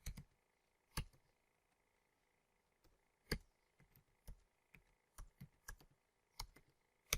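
Keys tapped on a computer keyboard while entering quantities into an Excel spreadsheet, quiet scattered clicks in short irregular bursts with pauses between, close and alone.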